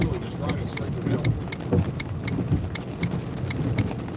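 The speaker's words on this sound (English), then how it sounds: "there's rain here, but a lot of hail" Heavy hail and rain pound down during a Tennessee tornado storm, a dense, steady roar of downpour punctuated throughout by sharp, close impact clicks.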